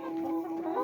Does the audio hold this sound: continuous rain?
no